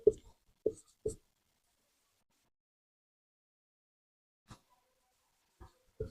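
Chalk or marker taps and strokes on a board during a physics lesson, with three quick close marks at the start and a few isolated faint ones later, separated by near silence.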